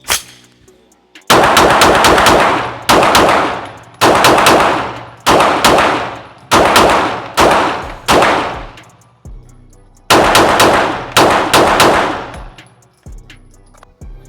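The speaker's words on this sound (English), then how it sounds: "All right, we loaded them up, now let's shoot them." Taran Tactical Glock 34 pistol firing in rapid strings of shots, several loud bursts separated by brief pauses, close and dominant with no talking.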